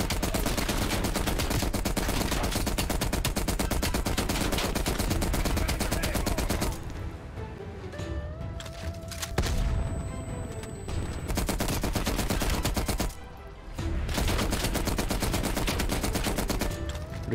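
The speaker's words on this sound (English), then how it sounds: "Oh my god, I've got a light machine gun!" A light machine gun fires in a Vietnam War video game, hammering out long sustained bursts that stop for two brief pauses before the loud, dense automatic fire resumes.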